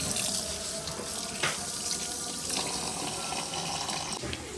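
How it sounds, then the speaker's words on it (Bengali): Rice and lentils are washed together in a sink under a running tap. A steady stream of water splashes continuously, with occasional louder sloshes as the grains are stirred, fairly quiet and with no talking. "সবজি খিচুড়ির জন্য চাল আর ডালে মিক্স একসাথে করে ধুয়ে নেব"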